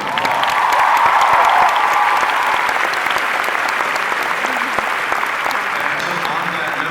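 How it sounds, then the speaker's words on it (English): Loud, dense audience applause from a large convention crowd at Wizard World Comic Con Philadelphia, a continuous wash of many hands clapping that holds steady for the full stretch, with faint voices mixed in. "Let's give him a round of applause."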